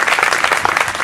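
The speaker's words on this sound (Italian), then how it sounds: "Facciamole ancora un bel applauso" A burst of audience applause for a town band concert, many hands clapping at once in a dense, bright wash of sound.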